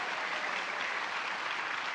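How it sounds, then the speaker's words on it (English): A crowd applauds the sponsors at the 2023 National Cherry Blossom Festival opening ceremony, giving a steady, dense wash of clapping that holds evenly for the whole two seconds with no voices over it. "Give all of our sponsors a round of applause."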